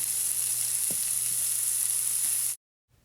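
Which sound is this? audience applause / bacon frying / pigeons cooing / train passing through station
bacon frying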